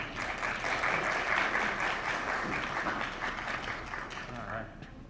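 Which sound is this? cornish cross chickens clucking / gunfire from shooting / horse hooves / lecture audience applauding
lecture audience applauding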